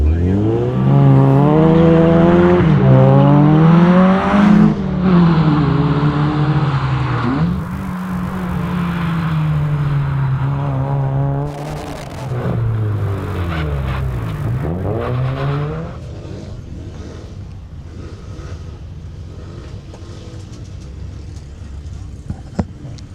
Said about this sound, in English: Josh Amoroso making his way up the hill in the little Honda Civic